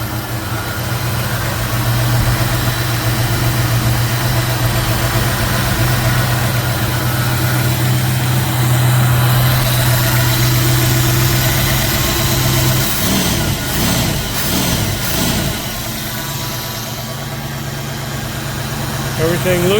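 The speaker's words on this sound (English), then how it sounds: "as soon as I got gas in it, it started right up." A car engine fitted with a freshly rebuilt Motorcraft 4300 carburetor idles with a steady, loud hum and vibration, briefly wavering midway before settling back into an even idle.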